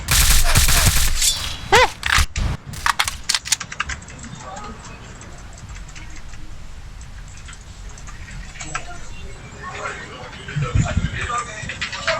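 Rapid gunfire crackles in a video game, with dense bursts of shots early on that fall away to sparser pops. Players talk throughout.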